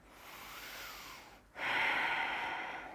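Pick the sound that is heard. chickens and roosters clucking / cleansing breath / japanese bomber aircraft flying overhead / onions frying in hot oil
cleansing breath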